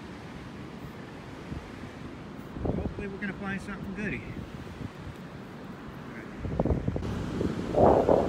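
Cold night wind gusts and buffets the microphone at a park or beach during metal detecting, a steady rough roar with someone talking over it partway through.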